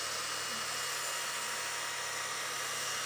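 A desktop laser cutter cuts through metal with a constant, even, bright hiss, steady and close with no variation, and no voices.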